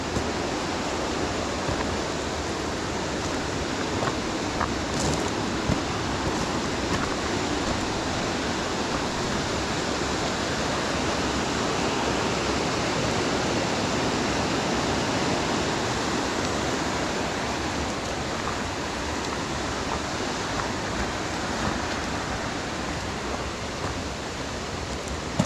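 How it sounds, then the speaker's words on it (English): Whitewater rapids racing down toward a gorge, seen through trees on a Rothbury ramble; a steady, dense rush of water holds evenly throughout, loud and continuous with no voices. "You can just hear the water racing down."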